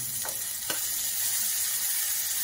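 Onion and tomato sauté in a pan with a soft, steady sizzle throughout, broken by two faint clicks of stirring near the start.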